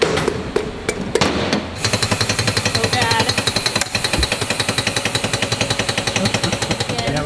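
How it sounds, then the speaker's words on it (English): Pistons are knocked out of an RV engine with loud, rapid, steady mechanical hammering, close by, after a few separate heavy strikes; a voice speaks briefly over it. "Just knocking out the pistons."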